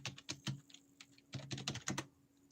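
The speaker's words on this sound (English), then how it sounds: "if you think you can figure out my password by listening to me typing" Typing on a computer keyboard, irregular bursts of crisp key clicks in two clusters separated by a short pause, close and fairly quiet with a faint steady hum underneath.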